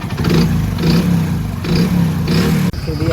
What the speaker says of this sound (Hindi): टनटनाहट की जो आवाज़ आ रही है